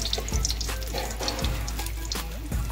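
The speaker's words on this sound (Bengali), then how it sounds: "দেখতেই পাচ্ছেন যে জলটা কিরকম পুরো টকবক করে ফুটছে একদম" Heavily salted water boiling hard in a pot for biryani, a continuous close bubbling and rolling churn with faint low thumps, no voices.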